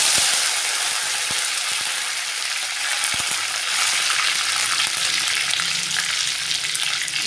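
Curry leaves and black mustard seeds frying in hot oil for masala dosa, a steady close sizzle with scattered sharp pops and crackles throughout.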